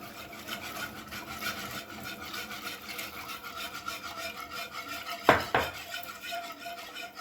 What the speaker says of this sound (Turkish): Şimdi topaklanmaması için karıştırarak suyumu ilave ediyorum.